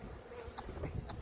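Honey bees from a swarm crowd around a caged queen, making a close, continuous buzzing hum with a few louder passes as individual bees fly near.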